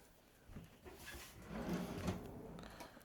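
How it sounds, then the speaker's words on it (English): A cutlery drawer in a holiday camp kitchen slides open or shut, a soft rolling scrape swelling to a muffled rattle of utensils and settling again, close and fairly quiet. "Cutlery drawer."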